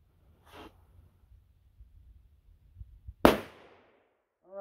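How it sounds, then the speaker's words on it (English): A .30 rimfire Marlin pistol firing 3D-printed bullets gives one sharp, loud crack that fades quickly, with only faint rustling and a soft thump before it in an otherwise quiet setting. "five shots with the little OK pistol"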